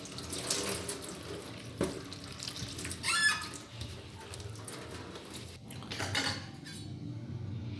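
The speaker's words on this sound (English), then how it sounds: "we'll have to wash it and wash it really great" Pineapple being washed in a kitchen sink under a running tap, water splashing and rushing unevenly up close, with occasional clinks of dishes and handling noises, no talk.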